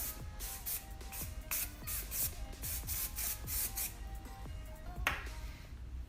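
Hairspray bursts onto styled wavy hair in a quick series of short hissing sprays, close and fairly loud, with soft rustling between them.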